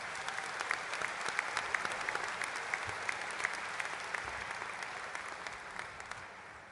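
An audience at a school graduation ceremony applauding, a steady wash of many hands clapping at moderate distance, with sharper individual claps popping out and the sound tapering slightly near the end.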